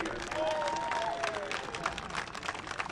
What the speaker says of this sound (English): Let's give one more round of applause for the entire Earlham football class of 2015